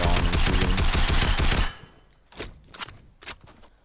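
Rapid SMG gunfire in a console shooter game, a loud continuous burst for about a second and a half, then three separate short shots after a pause.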